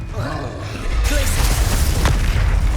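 Spell blasts in Hogwarts Legacy: a loud booming explosion erupts about a second in and rumbles on, with a sharper crack near the two-second mark, following a stretch of quieter spell effects.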